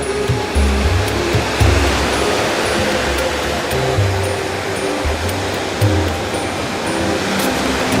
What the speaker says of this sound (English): Wow, the waves is so huge.